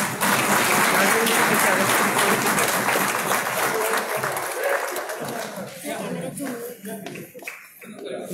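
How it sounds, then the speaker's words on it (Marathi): Loud, sustained audience applause at a Marathi journalists' association lifetime achievement award ceremony, dense clapping from a large crowd that slowly thins out toward the end. "जोरदार टाळ्या वेळा."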